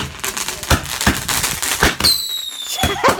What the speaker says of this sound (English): firework went over there and went into their back garden